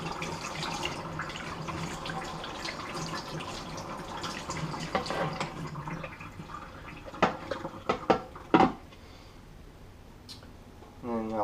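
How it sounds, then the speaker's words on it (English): A plastic holder from a Fluval 206 aquarium filter is rinsed under a running tap, water rushing and splashing nearby under talk, followed by a few sharp knocks and clatters as the flow stops. "Just going to rinse out the plastic holder a little bit."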